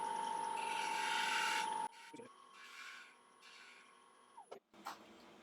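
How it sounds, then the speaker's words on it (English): A spindle gouge cuts an applewood bowl spinning on a wood lathe, a close, steady scraping hiss over the machine's hum that breaks off into quieter, intermittent cuts and light clatter. "just grab a spindle gouge now and just want to concave that ever so slight"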